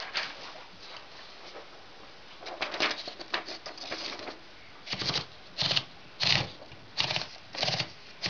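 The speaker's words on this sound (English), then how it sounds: "I'm going to do a quick typing test now, show you its capabilities" A black Royal portable typewriter in a typing test: clattering keystrokes come in loose, uneven runs at first, then settle into tight, evenly spaced bursts of rapid typing, close and fairly loud with no talk.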